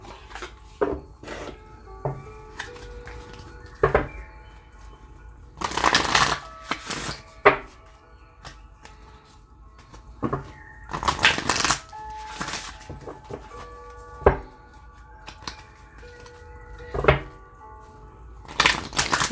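A deck of Moonology Oracle cards is shuffled by hand in repeated bursts of crisp riffling and tapping, separated by short quiet pauses, close and clear.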